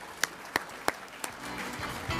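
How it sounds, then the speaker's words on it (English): A faint round of applause at a sports awards ceremony: a few isolated claps at first, then a soft, spread-out wash of clapping. "Round of applause for those guys too"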